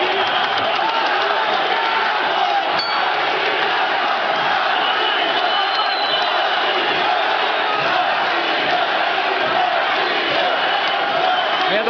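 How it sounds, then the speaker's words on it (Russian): Fans in the stands at a ProFC mixed martial arts event chant "Russia, Russia", a loud, continuous crowd roar with rhythmic chanting that holds throughout. "вы прекрасно слышите, как скандируют «Россия, Россия» болельщики на трибунах"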